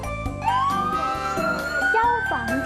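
A fire truck siren sound effect played in a children's listen-and-guess toy game, with a loud, steady wailing tone that sweeps upward and holds, layered with bright harmonics, heard alone.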